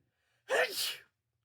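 A single loud, sharp sneeze bursts out close by, preceded by a quick intake of breath, with silence before and after.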